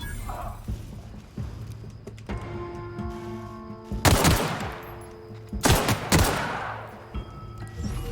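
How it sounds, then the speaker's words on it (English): Enemy gunfire in The Outer Worlds, two loud nearby bursts of shots with sharp cracks and rumbling tails, set against a hum of game ambience and sustained tones, with quieter thuds in between. "they're actually shooting shit off"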